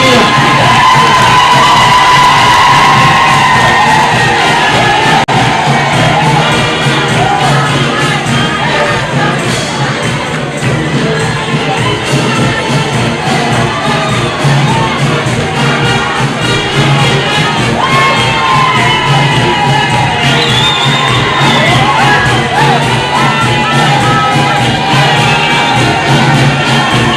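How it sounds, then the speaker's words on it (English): A large crowd at a scientific conference cheers and shouts loudly and continuously, with whoops and children's voices rising above the roar throughout. "Very big round of applause for Tanzania."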